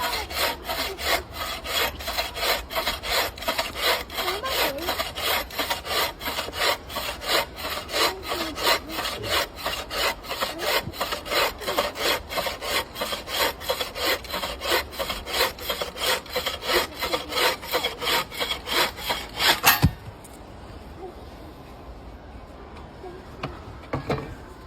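A buck saw cutting through a wooden log outdoors in a bushcraft setting, with fast, regular rasping back-and-forth strokes for about twenty seconds that then stop, leaving quiet ambience.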